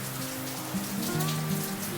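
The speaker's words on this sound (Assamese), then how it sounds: "বাহিৰত ইমান জোৰত বৰষুণ দি আছে" Steady heavy rain pours down, a dense continuous hiss of drops hitting surfaces, with a faint low hum underneath.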